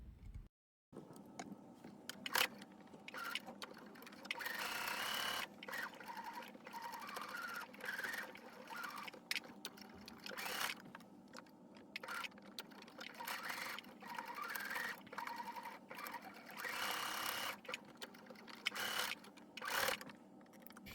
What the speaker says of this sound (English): First I'm gonna sew around the edges, and then we are going to attach the foot on the bottom exactly like this.